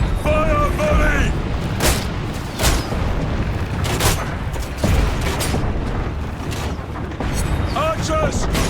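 Battle din from the video game Ryse: Son of Rome as archers fire a volley, with dense booming impacts and sharp bursts over constant roar, and shouted voices in between.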